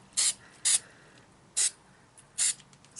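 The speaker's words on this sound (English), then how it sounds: "I am going to use some of this Krylon Easy Tack repositionable adhesive." Krylon Easy Tack repositionable adhesive sprays from an aerosol can in four short, separate hissing bursts, close and fairly quiet, with pauses between them.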